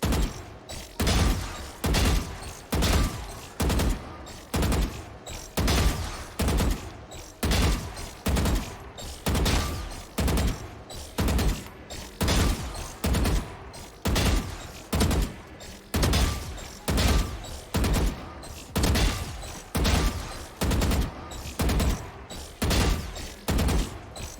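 Gunfire in Valorant aim training, a video game: a long, evenly spaced series of loud single shots, roughly one a second, close and clear with no talk.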